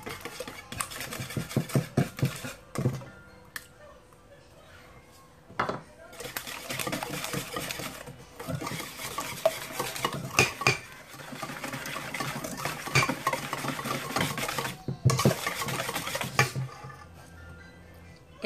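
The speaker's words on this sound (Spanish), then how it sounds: "Debemos de mezclar hasta que esté todo bien incorporado." Chocolate cake batter is mixed in a bowl in bursts of rapid scraping and clattering, with several short pauses between rounds, close up.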